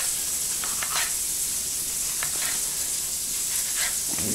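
Venison balls frying in a pan, a steady bright sizzle and hiss with occasional louder pops and crackles, close and continuous throughout.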